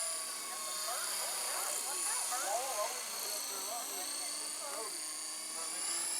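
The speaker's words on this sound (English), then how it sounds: "The tail on this one's not very smooth. It's an old Heli Max 400." An old Heli Max 400 radio-controlled helicopter with an unsteady tail flies nearby, giving a continuous high, buzzing rotor whine throughout, with faint voices chattering underneath.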